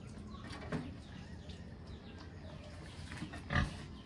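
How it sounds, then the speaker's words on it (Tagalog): Pregnant sows on a pig farm grunt faintly and sporadically, with a louder snort near the end against a quiet outdoor background. "Ang ating mga future mama pig na si Perla tsaka si Pitring."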